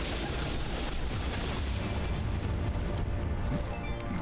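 Fiery attack explosions burst in a steady, dense stream during combat in Dust: An Elysian Tail, loud and continuous with no talking over them.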